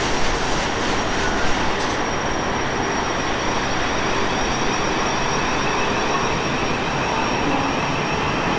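A Desiro City train departing a station, a steady loud rumble of wheels and traction with a faint high whine, continuous and close for the whole stretch.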